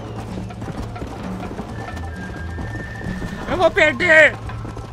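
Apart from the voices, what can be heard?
horse hooves galloping, from video game Red Dead Redemption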